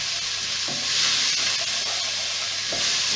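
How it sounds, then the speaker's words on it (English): Chopped onion and celery for an oxtail stew sizzle in a pan on low heat: a continuous close hiss with soft stirring scrapes now and then. "Switch the heat down to a low heat now, and the vegetables we chopped up, in they go."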